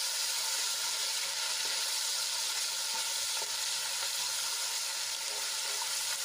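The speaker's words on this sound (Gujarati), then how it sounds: "આદુ લસણ અને મરચાંની પેસ્ટને આપણે સાંતળી લઈશું" Ginger, garlic and green chili paste sizzles and spits steadily in hot oil, a continuous bright crackle with occasional soft stirring, no voices.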